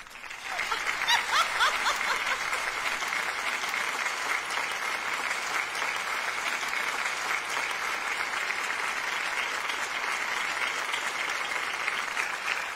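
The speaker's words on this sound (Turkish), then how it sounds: "Alkışlıyoruz." Sustained applause from a radio show studio audience, a dense, even rattle of many hands clapping that swells near the start and holds steady for several seconds, with a few chuckles mixed in.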